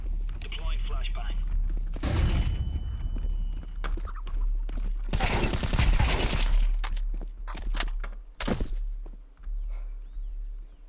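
Flashbang and gunfire in a video game: a loud burst of rapid shots and a bright blast, followed by scattered sharp cracks and thuds, with a person talking throughout.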